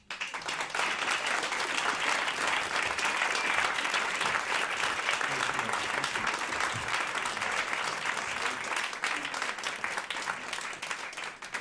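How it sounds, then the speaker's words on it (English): Sustained audience applause at a live poetry reading, a dense wash of many hands clapping at once, steady and fairly full for over ten seconds before tapering off at the end, with no speech over it. "Another brave round of applause for Tino"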